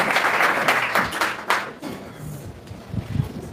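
Congregation applause during a church prophetic ministry service, a loud burst of clapping that fades after a couple of seconds into murmuring voices and room noise.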